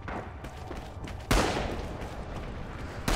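A single sharp gunshot from a Rising Storm trench shotgun battle rings out at mid-distance after a stretch of low rumbling ambience, its echo lingering beneath faint background battle noise.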